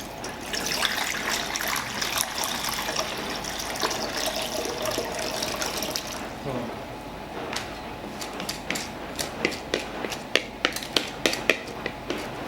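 Water pours steadily into an electric pan with a gushing splash, then slows to trickles and drips with scattered metallic clinks, close by.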